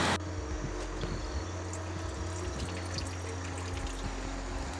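River water rushes steadily over small waterfall rapids on the Urucuia River, a continuous close, loud churning flow with no talk.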